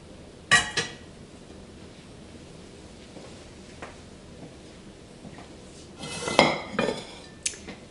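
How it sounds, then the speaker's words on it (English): Cooked pasta going into a serving dish, with a few sharp clinks and clatters of dishes and utensils spaced across a quiet background, a busier burst of clanking near the end. "Alright, put that in a nice serving dish."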